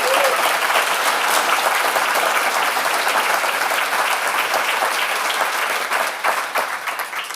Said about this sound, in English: So could we have a round of applause for all those funders,